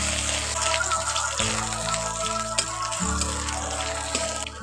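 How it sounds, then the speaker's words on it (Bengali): Chopped ginger and green chillies fry in a pan with oil, a steady close sizzle and hiss throughout, with light stirring noises and a faint buzzing hum beneath. "আদা কুচি কাঁচা লঙ্কা কুচি একটু নাড়াচাড়া করে ভেজে নিচ্ছি।"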